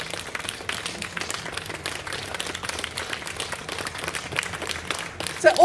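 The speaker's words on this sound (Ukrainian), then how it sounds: "Це оплески вам теж." Audience applause at an outdoor classical concert of cello and flute in a botanical garden, a lively patter of many hands clapping continuously, with a brief louder swell at the end.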